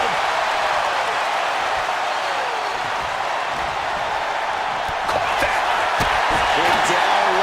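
A simulated arena crowd in the WWE 2K25 wrestling video game roars continuously and loudly, with thuds from the match and game commentary talking over the noise.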